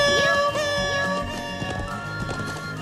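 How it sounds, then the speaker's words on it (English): A horse gallops with a quick, rhythmic clip-clop and gives a brief neigh in the Trails of Cold Steel video game, set against sustained game music. "I'm turning this horse around now."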